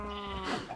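A sheep in Minecraft gives a single wavering bleat, faint and nearby, heard alone.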